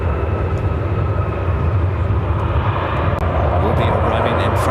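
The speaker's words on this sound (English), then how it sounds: "MD-11 coming in from Memphis, like 383," A McDonnell Douglas MD-11 jet arriving at Chicago O'Hare, with a steady, loud broadband engine roar holding throughout, close and continuous, with faint voices underneath.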